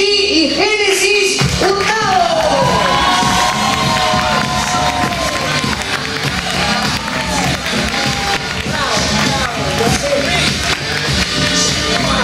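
Cheering and applause from a crowd at a press conference for a celebrity cooking competition, loud and continuous with shouts and whoops over a dense wash of clapping, amplified voices and music-like tones woven through.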